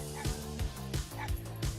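Several dogs at a dog park let out short, repeated bow-wow barks and yips in a loose rhythm, about four bursts over a couple of seconds, fairly close with some background murmur.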